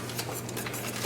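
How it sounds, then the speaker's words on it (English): Grape hull jam is stirred in a pot on the stove, with a continuous soft scraping of a utensil against the pot and faint light clinks in a busy, close background. "you have to stir this the entire time that you're cooking it"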